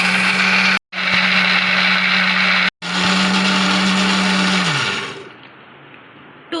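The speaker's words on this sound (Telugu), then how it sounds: "2 మినిట్స్ హై స్పీడ్లో కొట్టుకోవాలండి మిక్సీ." A kitchen mixer grinder whirs loudly at high speed blending mango lassi with rose petals, cutting out twice briefly before winding down and stopping near the end.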